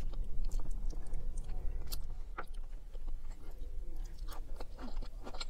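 Someone chews and bites into sweet potatoes, with wet, crunchy mastication sounds close to the mic, repeated irregular bites and chews throughout without speech.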